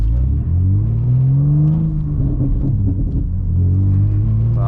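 A manual BMW G80 M3 with a warm engine, switched into M mode, rumbles deep and close from inside the car, revving gently up and back down under steady road noise.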